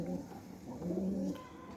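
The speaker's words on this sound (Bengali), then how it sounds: "এই যে কবুতরটা, এই যে একটা কবুতর সবুজ" Pigeons kept at home, including a green pigeon with a patterned tail, coo in a couple of low rounded phrases nearby, with the second call longer and steadier, alone without speech.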